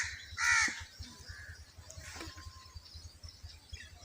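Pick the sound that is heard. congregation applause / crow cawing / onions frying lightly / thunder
crow cawing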